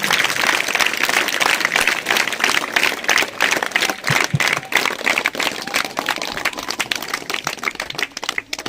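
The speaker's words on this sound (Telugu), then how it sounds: "గట్టిగా చప్పట్లు కొట్టాం" Students clap loudly together after a meditation session, a dense and sustained burst of applause with many hands close by that keeps going with small swells throughout.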